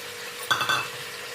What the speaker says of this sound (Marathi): आता ह्याला हलवून घेऊया हे मटार पण ह्याच्यामध्येच घालूया